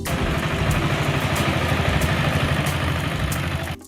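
Close and steady, a motorcycle engine idles with a rough, clattering low throb and faint periodic ticks, holding level until it fades out at the very end.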